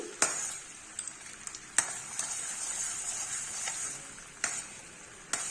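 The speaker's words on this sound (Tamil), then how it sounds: "பாக்கு கொதிக்குது" Sugar syrup bubbles and sizzles softly in a pan, a steady hiss broken by a few sharp clicks of a utensil stirring against the metal.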